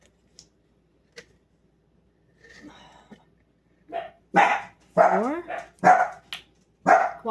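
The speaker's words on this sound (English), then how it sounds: "sorry about my dogs" Indoors, house dogs bark in a loud burst of repeated woofs close by, after a few faint sounds and a quiet stretch, with a brief spoken word early on.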